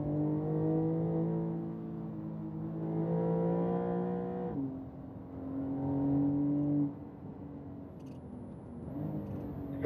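A car engine accelerates down a hill on the throttle, its droning note surging and easing in long swells with a brief dip midway, strong and near, with no speech.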